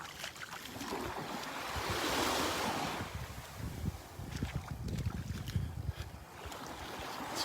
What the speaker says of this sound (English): It's a beautiful beach morning.